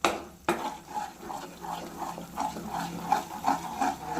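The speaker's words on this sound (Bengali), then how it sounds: "এবার আমি ঘিটা দিয়ে এটাকে আর 2 মিনিটের মতো ভালো করে নেড়ে নেবো" Milk powder sandesh dough being stirred with ghee in a pan on the stove, giving a steady run of soft scraping strokes in an even rhythm, close and moderately loud, with no talking.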